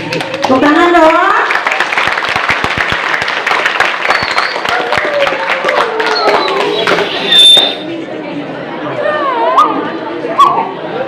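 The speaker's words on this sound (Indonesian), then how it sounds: "Tepuk tangan dong." Clapping and excited chatter fill a school retirement farewell ceremony at a junior high in Karanganyar, a lively crowd with bursts of applause, shouts and mingled voices continuing throughout at close range.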